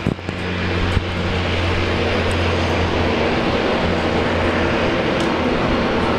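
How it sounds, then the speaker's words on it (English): Saab 340 turboprop operated by Rex taking off at Brisbane Airport, a loud steady engine roar with a low droning hum that holds throughout, close and continuous with no talk over it. "Rex taking off there with the Saab 340."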